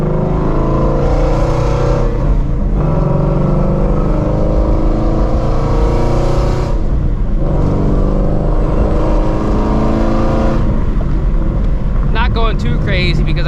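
A Shelby GT350 Mustang running E85 revs through crisp downshifts without active rev matching, its engine loud and close with a steady droning roar, rises and dips in pitch, and wind rushing over the microphone throughout.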